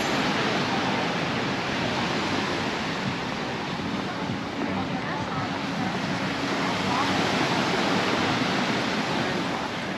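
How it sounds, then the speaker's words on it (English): Waves crash against the beach at Portals Nous, Mallorca, a loud, continuous roar of surf mixed with wind buffeting the microphone, unbroken for the whole stretch. "the waves are still bashing against the beach"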